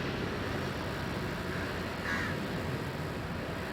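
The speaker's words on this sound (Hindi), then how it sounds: "कितने सारे कौवे उनके पास आके बैठ गए और आए जा रहे हैं" Several crows caw near a ferry landing in Panjim, Goa, their calls steady and fairly faint beneath a constant wash of outdoor noise and water ambience.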